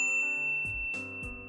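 A bright notification bell rings out in a short series of clear metallic dings, each sustaining and overlapping the last, loud and close over a faint musical backing.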